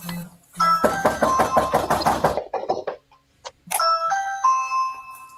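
Police officers knock on a front door, two clusters of loud, close raps followed by a rapid burst of banging, then ringing electronic tones like a doorbell chime with a brief gap between.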